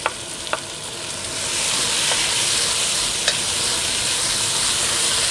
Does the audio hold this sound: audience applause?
no